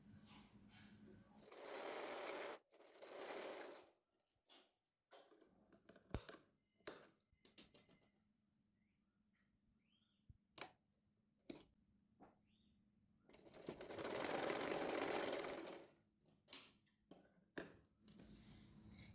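A sewing machine stitches girls' shorts in two short, close bursts of rapid whirring, separated by clicks, taps and fabric handling in a quiet room.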